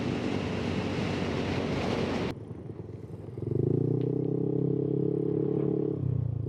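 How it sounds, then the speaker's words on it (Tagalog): Loud, roaring wind noise buffets the microphone during a motorcycle ride, then eases into a steadier rush with a low droning hum underneath. "Sobrang lakas ng hangin."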